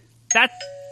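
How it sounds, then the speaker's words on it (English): A doorbell rings once with a bright two-note ding-dong chime, the second tone lingering, over a quiet steady hum. "That's a doorbell."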